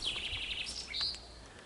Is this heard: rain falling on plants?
no